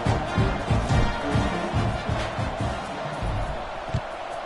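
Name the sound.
football stadium crowd before kickoff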